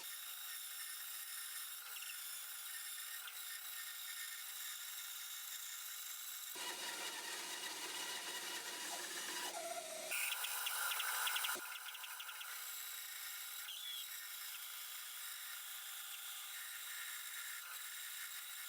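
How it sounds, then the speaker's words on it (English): A bandsaw cuts through reclaimed hardwood in a workshop, a steady high whine with a louder grinding stretch in the middle as the blade bites the wood, then settling back to the running hum. "I'll make the initial cut on each side using the bandsaw, sawing as close to the line as I can."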